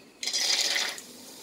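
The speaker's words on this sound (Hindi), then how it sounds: "ऑयल गरम हो चुका है, अब इसमें हम सेंग दाना डालेंगे।" Peanuts dropped into hot oil in a pan while cooking kanda poha, giving a sudden bright sizzle that bursts up and holds for under a second before settling into a faint simmer.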